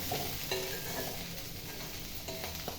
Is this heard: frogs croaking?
no